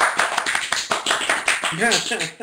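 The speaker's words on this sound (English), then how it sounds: "So tonight, Mr. Rick Valicenti, golf clap." A small gathering at a design chat event gives a golf clap: soft, evenly spaced claps in a quick, polite rhythm, with a voice rising briefly near the end.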